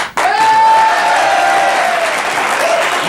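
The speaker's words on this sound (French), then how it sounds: "Ça méritait bien ces quelques applaudissements" A TV studio audience breaks into loud applause that starts abruptly and holds steady throughout, dense clapping with a brief whistle-like tone riding on top.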